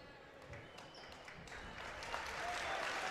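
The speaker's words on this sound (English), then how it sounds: "a round of applause for everyone as both players went down hard" Crowd applause in a gym at a high school basketball game between Perham and Fergus Falls, a faint distant patter of clapping that grows a little louder, with sneaker squeaks and murmuring voices.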